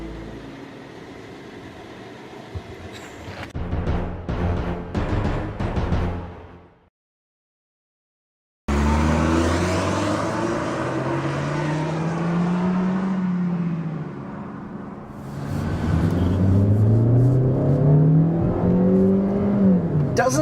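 A Kia Forte car engine hums and revs while driving, rising in pitch as it accelerates, steady and fairly loud with a brief silent gap partway through.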